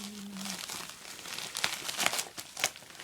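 A package is cut open with scissors, giving soft crinkling plastic and a few sharper crunching snips toward the end, fairly quiet and close, with no talking.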